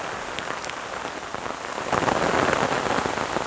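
Heavy monsoon rain lashes down in a village, driven by gusty wind, a dense steady hiss of drops striking surfaces that swells louder partway through, close and continuous with no voices.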